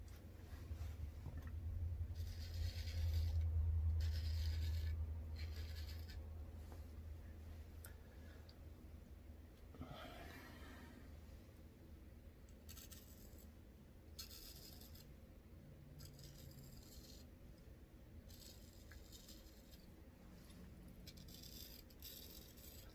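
A razor scrapes across the face on a first shaving pass, soft repeated short strokes in bursts, close and quiet, with a low rumble early on and brief gaps between strokes.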